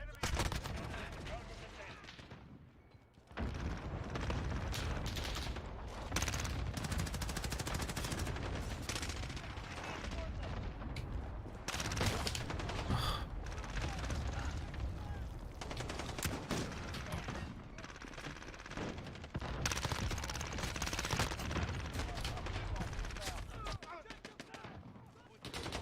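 Heavy automatic gunfire in Modern Warfare multiplayer, loud bursts and overlapping machine-gun fire running almost continuously, broken by a short lull near the start and a few brief gaps, with someone talking over parts of it.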